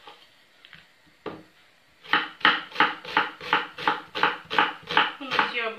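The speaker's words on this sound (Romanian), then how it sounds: "Vom tăia ceapa." Onions being chopped with a knife on a board for Romanian chicken borscht with homemade noodles: a run of about nine loud, evenly spaced chops close by, after a few scattered clunks and brief background voices.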